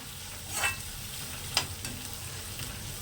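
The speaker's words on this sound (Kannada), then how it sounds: "ಇವಾಗ ಶುಂಠಿ ಬೆಳ್ಳುಳ್ಳಿ ಮತ್ತು ಈರುಳ್ಳಿ ಫ್ರೈ ಆಗಿದೆ" Ginger, garlic and onion fry in a pan for a baby corn sabji, a soft, steady sizzle broken by a couple of brief stirring scrapes, fairly quiet and without speech.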